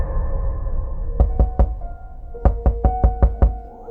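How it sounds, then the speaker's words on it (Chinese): Sharp knocks on a door arrive in two groups, three raps and then a quicker run of five, close and distinct against a quiet room. "清早我被一阵敲门声吵醒"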